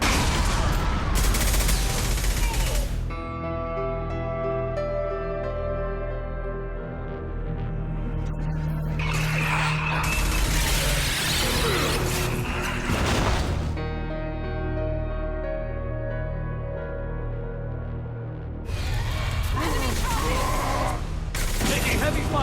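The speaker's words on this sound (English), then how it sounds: "Taking heavy fire." Bursts of heavy gunfire in the video game Mass Effect 2 arrive in several loud waves separated by quieter stretches of music and ambience, with voices speaking in between.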